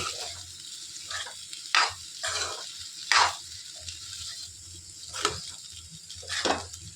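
Pasta being stirred in a hot frying pan, a steady close sizzle under repeated scraping strokes of a utensil against the pan, spaced every second or so.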